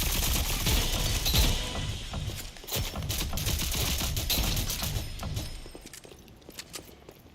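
Rapid gunfire from a gold gun in the shooter game Rogue Company, dense bursts of shots rattling on for several seconds and thinning out toward the end.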